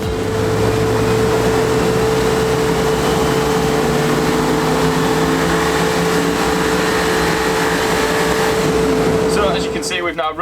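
A VW Polo GTI with a 2.0 TSI engine runs up on a dyno in stock form, producing a loud, steady engine drone with a sustained tone that cuts off near the end.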